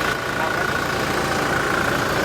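A 2017 Toyota Hilux Revo 2.4 G pickup with an automatic gearbox idles close by, giving a loud, steady, even engine drone with no change in pace.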